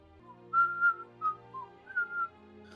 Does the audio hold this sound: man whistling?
yes